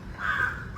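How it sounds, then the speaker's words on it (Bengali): A single crow caws, a drawn-out harsh call rising out of quiet background hiss. "এত সুন্দর সকাল এত পাখি কিচিরমিচির করছিল"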